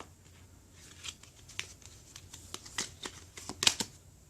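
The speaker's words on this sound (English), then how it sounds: "let's get 9 cards from this deck" Tarot cards are shuffled and drawn from a deck, producing quick, close, soft papery flicks and riffles in an irregular patter, fairly quiet with no talk.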